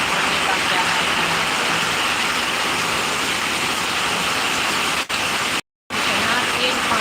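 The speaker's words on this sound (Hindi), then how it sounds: "इतना तेज पानी पड़ रहा है, इतना तेज हो रहा है।" Heavy rain pours down steadily in Bengal, a loud dense hiss that fills the whole clip and drops out only for a brief moment near the end.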